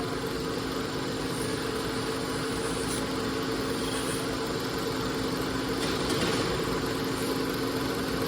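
An old American-made machine used to remove the burr from a leather belt makes a loud, steady mechanical hum and drone up close, continuing without a break.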